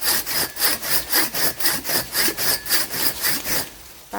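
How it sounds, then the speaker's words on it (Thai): A hand saw cuts through wood outdoors in a forest with quick, even back-and-forth strokes, about a dozen rasping pulls in steady rhythm, close and loud without talk. "เลื่อยกันนะพี่น้องเอ้ย"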